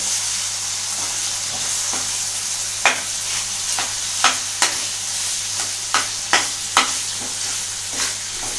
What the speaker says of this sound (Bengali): আচ্ছা এটাকে একটু ভালো করে নাড়াতে হবে।